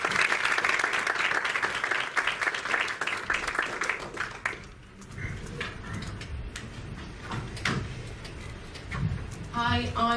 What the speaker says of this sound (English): Keep clapping as we invite our next pitcher to come to the front